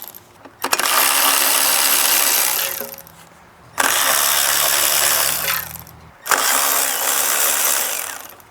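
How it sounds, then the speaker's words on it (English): Three bursts of harsh metallic ratcheting from a wrench working the 19 mm crankshaft bolt on a 2007 Honda Accord 2.4L engine, each burst about two seconds long, separated by short pauses, close and loud with no talk. "I just use a wrench to get on there."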